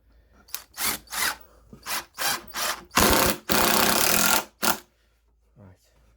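Power drill driving screws into a homemade wooden outboard engine stand: several short whirring bursts close up, then one longer drive, with a brief voice at the end.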